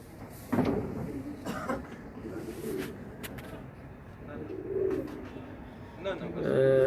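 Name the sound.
pigeons cooing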